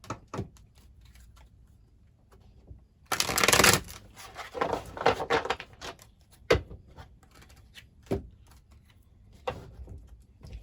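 Tarot cards are shuffled up close, with a dense burst of riffling and rustling, a pause of softer card handling, and scattered taps as cards are set down. No one speaks.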